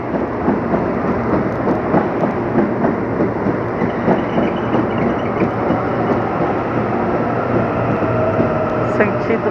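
Series 7000 commuter train pulling into Jardim Romano station, a loud continuous rumble of wheels and carriages rolling past close by, steady for the whole stretch.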